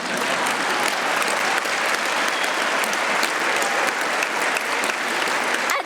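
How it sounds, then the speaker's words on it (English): A large assembly hall audience at the opening ceremony of the 72nd World Health Assembly breaks into sustained, steady applause, thick and even throughout with no pauses. "That deserved a round of applause."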